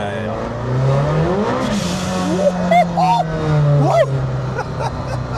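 Modified McLaren Senna tuned to 1,100 hp accelerating in Monaco, a loud engine tone rising and holding with a brief revving surge, while people talk and exclaim over it nearby.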